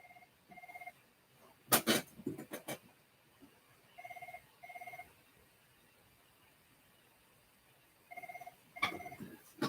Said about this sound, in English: Well, I got a phone call